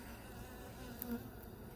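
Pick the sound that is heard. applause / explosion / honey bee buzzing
honey bee buzzing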